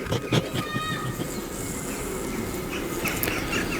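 Honey bees hum around an open hive while a new queen in her cage is checked, a low, steady buzzing close by with a few brief higher whines and clicks.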